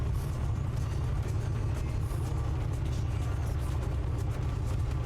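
Steady droning rumble of a Piper Comanche light aircraft engine losing RPM, a continuous low-pitched hum with no clear rise or change, heard alone without voices.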